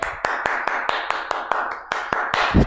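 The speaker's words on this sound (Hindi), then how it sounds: "तालियां रुकनी नहीं चाहिए भैया" Clapping during a classroom lecture, a steady run of crisp, evenly spaced claps at a brisk pace, close and fairly loud with no talking over it.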